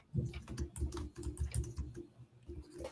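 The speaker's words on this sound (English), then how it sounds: "I can hear you typing from here. Just loud. Just typing loud." Loud, fast typing on a computer keyboard close to the microphone, a continuous irregular patter of clacking keystrokes in quick bursts.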